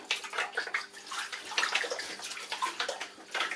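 Citric acid being stirred into water in a container: soft, continuous sloshing and swishing close by, with irregular swirling pulses and no talk.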